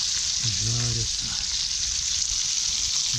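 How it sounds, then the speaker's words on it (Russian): Small chebak fish frying in a pan, a steady soft sizzle throughout with a brief spoken word near the start. "Жарится."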